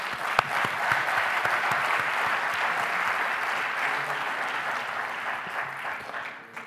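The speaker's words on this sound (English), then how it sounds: "let's give us all them a big round of applause." At an awards ceremony an audience gives a sustained round of applause, a dense, even wash of many hands clapping that holds steady and then tapers at the end.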